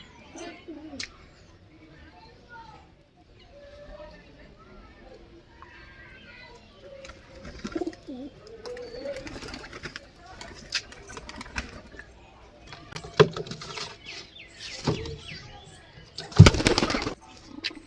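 Murshidabadi Giribaz pigeons coo softly nearby, then a sudden loud burst of flapping wings near the end, with people talking in the background.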